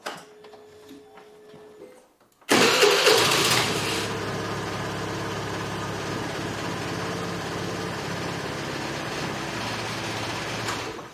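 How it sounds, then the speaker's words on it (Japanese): After a quiet moment, an air-cooled Honda business motorbike engine cranks and catches with a sharp burst, then settles into a steady, ticking idle nearby. "まあなんか典型的な空冷の音ですよね。 よく聞くホンダの音です。"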